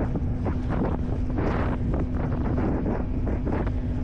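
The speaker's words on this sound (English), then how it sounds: "it's 32 kilometer an hour wind gusts today" Strong wind gusting to about 32 km/h buffets the microphone during a bike ride in Prince Edward Island, repeated rough gusts, a loud continuous roar with bursts of rumbling.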